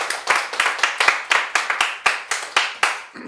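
An audience applauds to welcome a tax accountant onto the stage for a citizens' tax school lecture, giving about a dozen evenly spaced, crisp claps in a steady rhythm, close and fairly loud.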